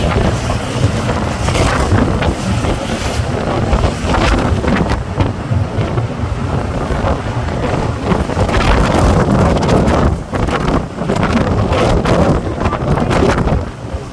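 Heavy wind roars across the Meghna river while a passenger launch fights a strong current, a loud, continuous rumble with repeated gusting bursts buffeting the microphone.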